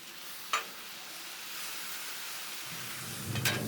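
Chicken pasta sizzles faintly and steadily on a Blackstone griddle outdoors, with a low rumble of approaching storm and a couple of short sharp clicks.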